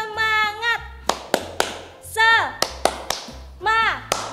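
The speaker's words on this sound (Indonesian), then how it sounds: "Coba kita tepuk semangat lagi ya." Children's Sunday school group doing a rhythmic "tepuk semangat" cheer clap, with sharp hand claps in a steady pattern interleaved with sung or chanted voices.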